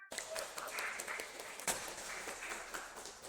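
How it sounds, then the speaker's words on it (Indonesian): Quiet clapping from a small group at the close of a university lecture session, a light patter of hands that is faint and somewhat distant, with a single sharper clap standing out midway. "Mari kita tepuk tangan bersama."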